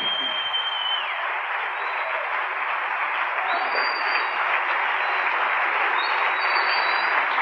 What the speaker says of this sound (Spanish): Démosle un aplauso bien fuerte al Rey bendito.